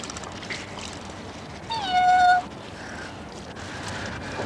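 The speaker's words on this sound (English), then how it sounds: "What's that cat up to now?" A cat meows once at a hairdresser's, a single clear, loud, drawn-out meow close by, set against a quiet room background with no speech.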